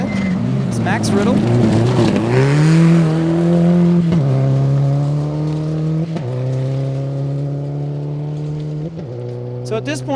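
A Subaru rally car on a stage of the 2012 Olympus Rally drives past, its engine note climbing and steadying with sharp shifts and throttle changes, loud and close for the whole stretch.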